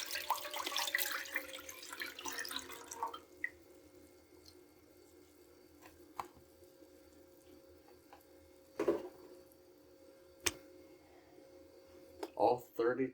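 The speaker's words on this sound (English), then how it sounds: "Now we are going to add our bone chicken broth in." Chicken bone broth poured from a 32-ounce carton into a pan holding water on the stove, a soft splashing pour in the first few seconds, then quieter kitchen clinks and taps.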